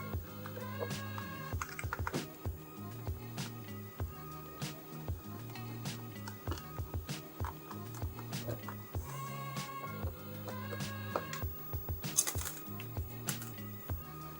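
Small Phillips screws being backed out of an SNES controller casing, a close run of light, rhythmic ticking clicks and creaks from the screwdriver against the plastic, with no talking.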